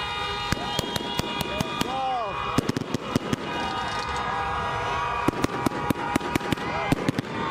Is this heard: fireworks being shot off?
yes